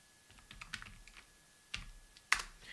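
Someone types on a computer keyboard in a quiet room, a few soft, sparse key clicks followed by two sharper, louder keystrokes, with no talking.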